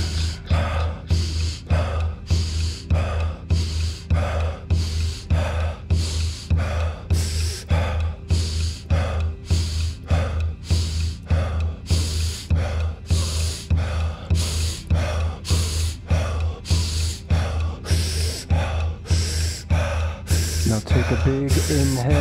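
Deep breathwork, a rapid rhythmic series of forceful inhales and exhales repeated steadily for over twenty seconds, close and loud over a low droning music bed, with no speech.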